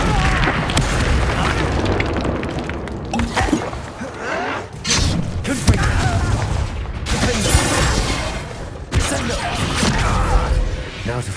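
A Confringo spell explodes in the Hogwarts Legacy video game, a loud dense barrage of booms, crashes and bursting pops that lasts throughout, with brief game voices in between.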